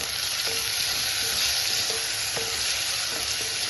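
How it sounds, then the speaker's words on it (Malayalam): Onions sautéing with salt in a pan hiss in a constant close sizzle, with a few light spatula taps and stirs scattered through, and no voices. "സവോള ഒന്ന് ഒരുമാതിരി വഴന്ന് വരട്ടെ"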